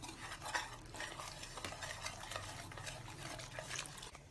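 Close, continuous stirring of wet khaman dhokla batter in a bowl as water is added, with soft scraping and sloshing that repeats steadily and no talking.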